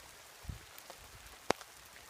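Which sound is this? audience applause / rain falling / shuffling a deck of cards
rain falling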